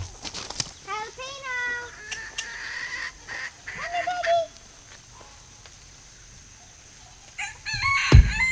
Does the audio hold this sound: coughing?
no